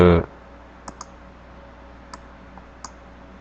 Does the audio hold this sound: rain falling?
no